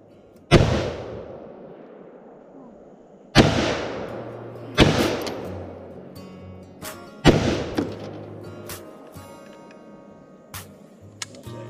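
Four sharp, loud gunshot blasts ring out a second or two apart at an outdoor family gathering, each trailing off in a long echo, followed by a few fainter pops.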